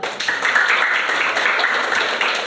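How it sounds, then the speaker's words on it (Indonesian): Short burst of applause from a group in a computer class after a Windows installation, moderately loud and steady for a couple of seconds. "Oke, tepuk tangan dulu"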